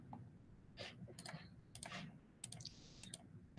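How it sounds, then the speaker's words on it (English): Keys clack on a computer keyboard in quick, uneven bursts of soft clicks, close and fairly quiet over a low room hum, with no one speaking. "I will be typing clever.com"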